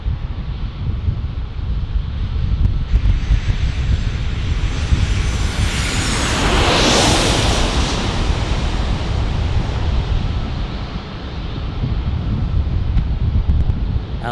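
A Southwest Airlines airliner landing at San Diego airport gives a broad, loud jet roar that swells to a peak midway and then fades, over constant wind noise at the microphone.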